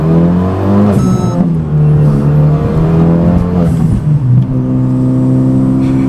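A Renault Megane RS engine revs while driving, its loud tone climbing and falling through several pulls with short breaks between them.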